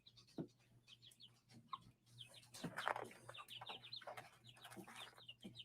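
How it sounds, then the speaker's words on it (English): Chicken clucking in repeated short bursts, fairly close and moderately loud, mixed with other busy activity, a steady low hum underneath and no speech. "What kind of chicken is this?"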